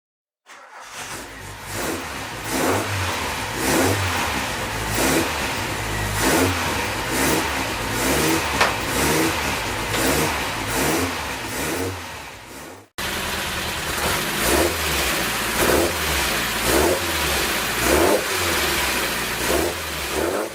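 A Talbot Matra Murena 1.6 litre engine revs repeatedly, loud and close, surging and falling in a steady rhythm, with a brief cut partway through before the revving continues.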